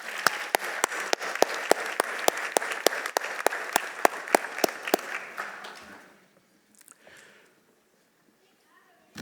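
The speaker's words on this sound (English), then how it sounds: "Please join me in giving them another round of applause." Applause at a school graduation ceremony, with a crowd clapping steadily for about five seconds, sharp individual claps standing out, then fading into quiet room noise.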